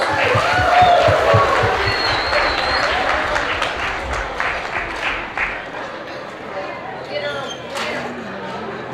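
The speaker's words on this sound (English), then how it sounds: "Y'all give her an applause." Sustained applause and clapping from an outdoor crowd at a rib cook-off, loud and close at first, then tapering off with scattered voices talking.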